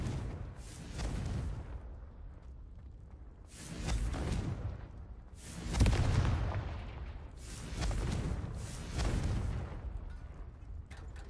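Series of booming blasts from the Confringo fire spell in Hogwarts Legacy, about five heavy explosive bursts with whooshing tails at uneven intervals, fairly loud and free of talk.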